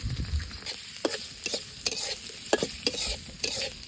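Chopped onion and green chilli fry in hot oil in a wok for a Bengali brinjal dish, a steady close sizzle broken by sharp scraping stirs of the spatula every half second or so.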